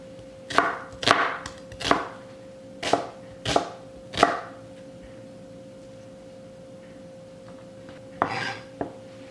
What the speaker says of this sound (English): I have 1 shallot that I'll dice up.